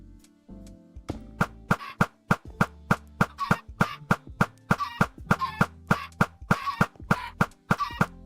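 A large crowd of chickens in Minecraft clucks in a rapid, loud run of sharp pops, dozens of short calls crowding together one after another with no speech.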